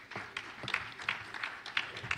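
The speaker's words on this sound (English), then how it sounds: "Let's give Professor a round of applause." Audience at a climate justice symposium applauding a professor, a faint, steady patter of many hands clapping, heard from a distance in a large hall.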